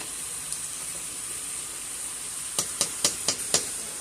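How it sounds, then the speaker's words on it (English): A spoon stirs noodles in a pot for beef stroganoff over a steady background sizzle, producing five crisp, evenly spaced knocks against the pot in quick succession. "Let me give my noodles a good stir."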